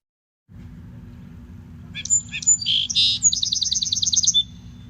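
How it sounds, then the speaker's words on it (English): A Song Sparrow sings alone over a steady low background hum: a few sharp introductory notes followed by a quick trill of repeated, evenly spaced chirps, clear and moderately close. "So yeah, it's Song Sparrow."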